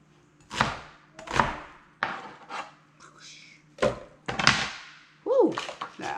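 A whole onion tossed into a food processor bowl, heard as several sharp hollow thunks and knocks spaced irregularly, close and fairly loud, with a voice speaking between them.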